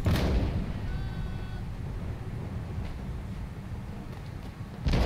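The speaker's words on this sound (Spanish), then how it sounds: "Cañonazo la habéis llevado igual, ¿eh?" Cannon fire on an Empire: Total War battlefield, with a loud booming blast at the start and another at the end. Between them is a constant low battle rumble and faint distant noise.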